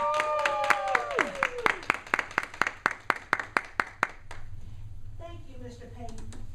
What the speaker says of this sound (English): So please stand up and give a round of applause to Dr. Camesha Hill Carter